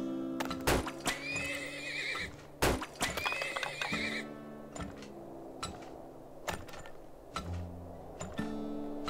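Horses in the video game Turmoil, with two sharp whinnies early on followed by a steady run of hoof clip-clops and occasional wooden knocks, loud and close with no talk.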